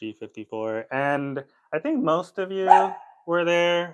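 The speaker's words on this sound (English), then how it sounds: "that was my dog" A pet dog gives a short bark and yip close by while someone talks over it, calling bingo numbers.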